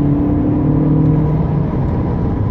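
An Opel Astra 1.4 T running on petrol accelerates hard from a standstill toward 100 km/h, a loud, steady engine drone and whir heard from inside the car.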